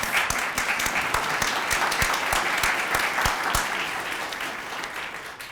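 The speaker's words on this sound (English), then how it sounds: "let's give them a round of applause" An audience applauds the graduates at a small graduation celebration, a sustained, fairly full round of clapping with sharper individual claps standing out near the front, easing slightly toward the end.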